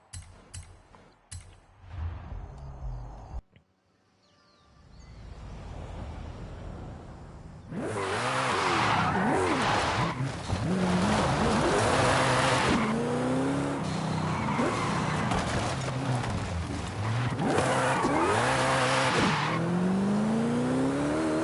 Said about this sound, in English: let's go get out the Koenigsegg while I do these jumps.